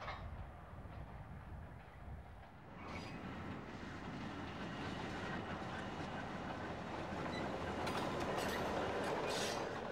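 Small local train running on a Queensland branch line, a continuous rumble of wheels and carriages that grows slightly louder and fuller as it passes.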